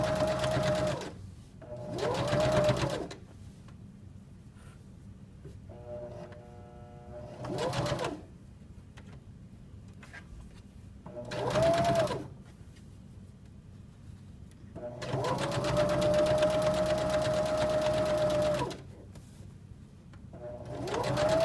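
A sewing machine stitches a zipper onto a sweatshirt in several close bursts of rapid whirring, with short pauses between runs and one longer final run.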